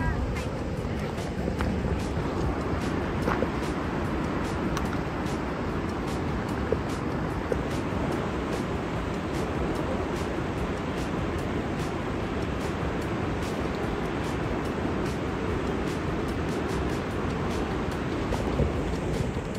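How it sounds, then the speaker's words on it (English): A big waterfall seen after a drive up a mountain road with switchbacks gives a steady, unbroken roar of rushing water, loud and continuous for the whole stretch, with some wind buffeting the microphone. "Yeah, pretty awesome waterfall."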